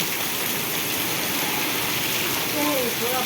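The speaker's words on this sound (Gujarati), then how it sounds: "જો તમે અતિ ભયાનક વરસાદ" A steady, dense hiss of heavy rain with wind pours throughout during a small storm in Vejalka, with a faint voice near the end.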